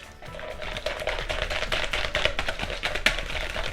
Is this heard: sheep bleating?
no